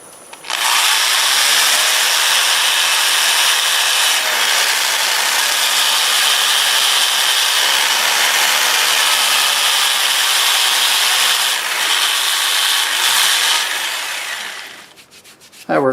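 Magnolia wood spinning on a lathe is sanded with a cheap 120-grit sandpaper disc. It makes a steady, loud, abrasive rushing hiss that runs almost unbroken for about fourteen seconds and then trails off.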